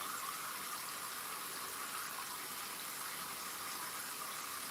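Water poured from a container into a cup in a home kitchen while preparing collard green wraps, a steady broadband splashing rush that holds evenly throughout, close by with no talking.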